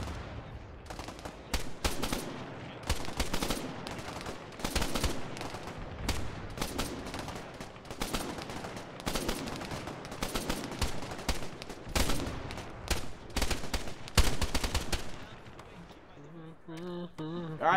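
MG3 machine gun fire in the ARMA 3 military shooter, long rattling bursts and rapid volleys of shots from multiple guns, fairly distant and sustained, with brief pauses and a quieter tail at the end.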